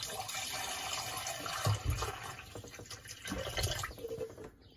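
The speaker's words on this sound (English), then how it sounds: "Now I'm going to do a test. I'm going to pour some hot water in there." Hot water poured into a Bosch/Siemens dishwasher drain, a soft continuous splashing and trickling with a few louder gurgles, fairly quiet and close.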